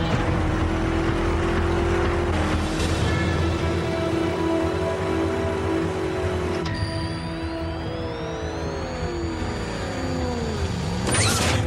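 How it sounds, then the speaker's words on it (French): A steady, loud car engine drone with a rising whine as it approaches and changes pitch, continuous throughout, ending in a brief burst of noise, in an animated show. "Je reconnaîtrai le son de ce moteur entre mille."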